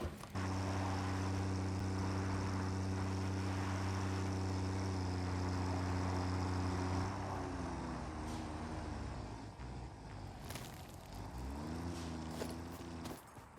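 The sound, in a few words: tractor engine driving, from the video game Satisfactory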